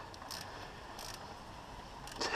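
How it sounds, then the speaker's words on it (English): A ratchet clicks in a few short bursts while snugging down the last thermostat housing bolt on a Vauxhall Zafira, close by over a steady low hum, with no talk. "the last bolt's going on, as you can see, and we're going to do it up"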